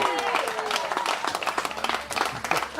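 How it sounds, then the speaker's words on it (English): A wedding crowd gives the bride and groom a final round of applause, dense sustained clapping with a few louder individual claps, with voices mixed in underneath. "One final round of applause for the bride and groom."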